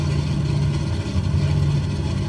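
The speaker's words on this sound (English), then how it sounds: "as you can hear, the engines are very, very loud in this plane" A loud, steady engine drone hums low and constant throughout, the idling engines of an Electra 10A in Microsoft Flight Simulator 2020, close by, with no voices.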